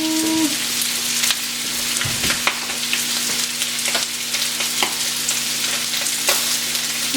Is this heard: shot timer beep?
no